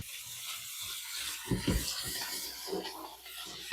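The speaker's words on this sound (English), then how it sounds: "We want a good sizzle." Lamb kidneys sizzle in a very hot pan, a steady broadband hiss running throughout with a few brief louder crackles and bursts partway through, close and moderately loud with no talking.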